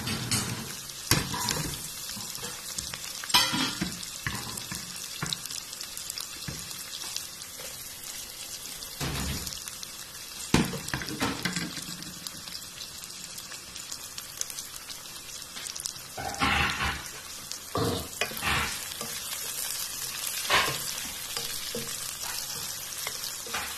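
Onion and garlic fry in a pan with a constant close sizzle while a utensil repeatedly scrapes and stirs, giving bursts of louder crackle, with no voices present.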